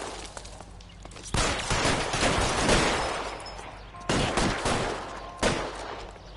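Sustained gunfire from a shootout in L.A. Noire: dense volleys of shots, with loud bursts breaking out around the second and again near the fourth and fifth seconds.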